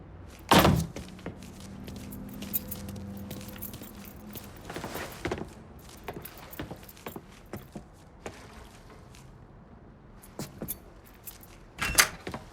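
Keys jangle in the Mafia 3 video game, a short metallic rattle near the start followed by soft thunks and footstep-like knocks, and a brief jingle again near the end, all fairly quiet.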